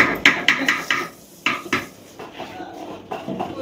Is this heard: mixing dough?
yes